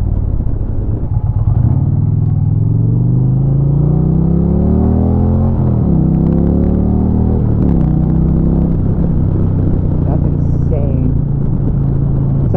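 Indian Challenger motorcycle with a flashed ECM, its engine loud and close, revving up through gears in rising sweeps with quick shifts dropping the pitch between pulls, a continuous heavy rumble underneath.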